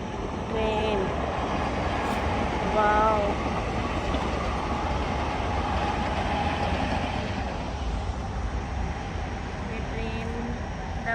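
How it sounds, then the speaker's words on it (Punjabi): A train rumbles past with a steady heavy roar and faint rhythmic clatter, while occasional bird chirps sound faintly above it. "ਤੇ ਨਾਲ ਨਾਲ ਵਿਊ ਤੁਹਾਨੂੰ ਚੱਲਦੀ ਟ੍ਰੇਨ ਦਾ ਦੇਖੋ"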